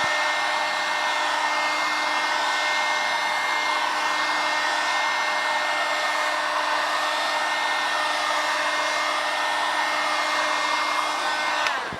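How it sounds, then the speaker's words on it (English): Heat gun blowing hot air onto a plastic car part, a steady, loud whirring hiss with a constant motor whine, running without change for the whole stretch. "Now I'm going to turn off my heat gun"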